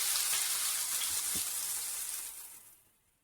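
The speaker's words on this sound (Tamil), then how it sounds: "இப்போ நம்ம முதல்ல வெட்டி வச்சிருக்கிற வெங்காயத்தை வதக்கிக்கலாம்" Sliced onions sizzle steadily in hot oil in a pan while shrimp varuval is being cooked, a loud, dense frying hiss that fades out toward the end.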